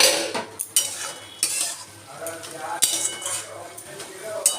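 Wilted water spinach (kalmi shak) stirred in a pan: a spatula scrapes and clinks against the metal in a run of close, uneven strokes over a soft, low sizzle.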